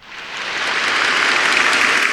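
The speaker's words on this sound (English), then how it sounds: "They all love the applause." Applause at a religious assembly swells in from the start into steady, dense clapping from a large audience, loud and continuous without any voices.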